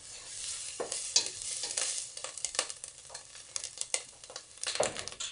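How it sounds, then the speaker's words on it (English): Frozen peppers sauté in a hot pan with a soft, steady sizzle and scattered popping crackles, along with some stirring scrapes, close and moderately quiet. "Sauteing peppers from the freezer is like popping popcorn."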